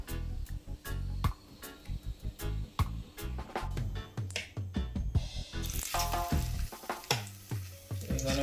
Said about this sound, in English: I'm frying some plantain and egg.